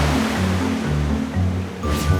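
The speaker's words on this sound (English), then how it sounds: "Do you remember the sound the water made when we were on the beach?" Ocean waves wash onto a beach in a steady, broad rushing roar that swells and recedes, heard alone and fairly close.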